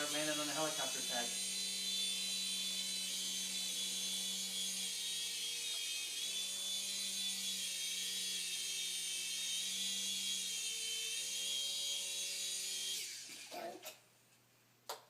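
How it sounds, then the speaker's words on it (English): Toy remote-control helicopter flying and landing on a helicopter pad, a steady high-pitched electric whine with buzzing rotor tones that holds close and loud, then winds down and stops near the end, with voices talking over it. "let's try to land it on the helicopter pad"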